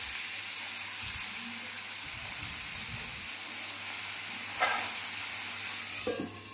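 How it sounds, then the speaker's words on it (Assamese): Green beans frying in oil in a pan give a steady, close sizzle with a soft hiss, a few brief stirring clatters and scrapes, with no talking. "এয়া মই এতিয়া বিনছখিনি ফ্ৰাই কৰি ল'ম তেলত"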